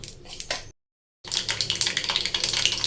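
Mustard seeds crackling in hot oil for a tempering on moru kuzhambu, a dense, hissy spitting sizzle that briefly cuts out to silence before resuming just as strongly.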